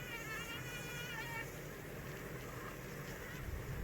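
Honey bees crowd a hive box holding a caged queen, sitting in full sun on a warm day, making a continuous dense buzzing drone that stays even and fairly faint throughout.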